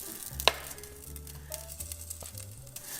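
Sausage dropped into a pot on high heat for a chile verde pork and potato breakfast soup, a steady close sizzle with a sharp spatter as it lands.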